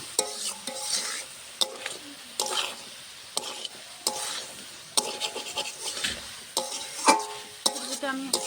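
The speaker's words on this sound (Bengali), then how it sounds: "সবজিটা আমি নেড়ে চেড়ে নামিয়ে নেব।" Mixed vegetables for a Bengali dish being stirred in a pan, with sharp regular scrapes and knocks of a spoon about once a second over a faint sizzle, close up.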